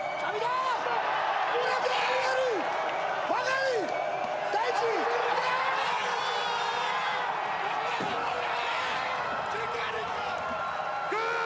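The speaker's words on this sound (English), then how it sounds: "The entire crowd going nuts." An arena audience at the 2017 World Weightlifting Championships, women's +105 kg event, roars with sustained cheering, whoops and applause, loud and continuous throughout.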